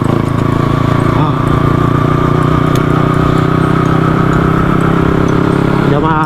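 A Honda Wave 125s motorcycle, just collected from a repair shop and ridden for the first time, runs with a steady mid-pitched engine drone and some clatter, loud and close throughout.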